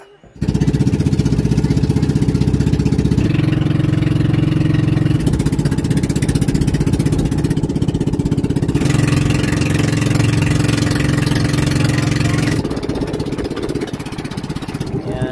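A loud, steady boat engine drones throughout with a low rumbling hum, shifting slightly in tone a few times, with no speech over it.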